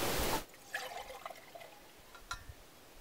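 Water poured into a coffee pot at a minivan campsite, a brief gush followed by faint trickles and drips, quiet and close.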